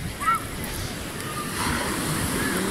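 Mediterranean sea waves wash over a pebble beach after a storm, a steady hiss of surf with wind that swells toward the end, close and fairly loud.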